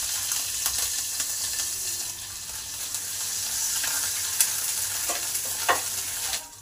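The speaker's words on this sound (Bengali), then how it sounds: "আদা কাঁচা লঙ্কা আমার ভাজা হয়ে গেছে।" Grated ginger and chopped green chilli fry in hot oil with cumin and asafoetida, a continuous bright sizzling hiss with small pops and crackles, fairly loud and close, with nobody speaking.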